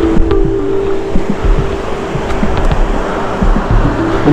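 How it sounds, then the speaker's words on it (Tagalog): Sea waves washing into a cove near the Baler lighthouse in Aurora, a steady broadband surf wash with soft breaking swells, fairly close, with a low rumble under it and no talking. "Dito banda yung dagat"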